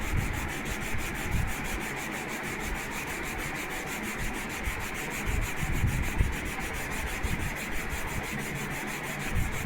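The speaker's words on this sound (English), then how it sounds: "Keep your sanding block at the constant 30-degree angle. Continue sanding till you reach the bottom of the wing." Sanding block rubbing along a balsa wood trailing edge held at the table edge, a continuous close scratchy rasp with rhythmic strokes throughout.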